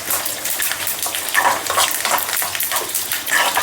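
Fish pieces fry in a pan for a dry fish curry, giving a steady, fairly loud bubbling sizzle with crackling bursts and no voices over it.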